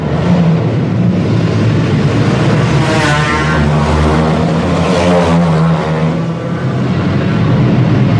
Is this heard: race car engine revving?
yes